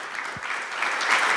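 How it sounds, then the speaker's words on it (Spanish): A church congregation claps along for Jesus Christ during a Spanish-language sermon, a steady wash of applause that swells slightly toward the end, with no voices over it. "Apláudale al Señor Jesucristo."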